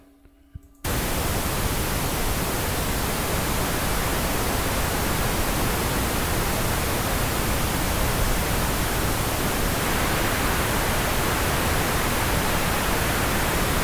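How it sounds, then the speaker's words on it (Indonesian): Pink noise plays as a measurement test signal for RTA speaker tuning from a mixer. After a brief quiet start, the loud, broadband hiss stays steady and constant throughout. "Nanti kita akan coba misalkan suara pengukurannya itu nggak balance, nggak flat."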